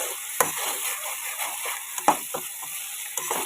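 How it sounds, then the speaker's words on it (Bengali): Masala sautéed and stirred in oil in a pan for an onion and egg curry, a soft steady sizzle broken by irregular scraping clicks of the spoon against the pan, close up and without talking. "এই মশলাটাকে ভালো করে কষিয়ে নেব"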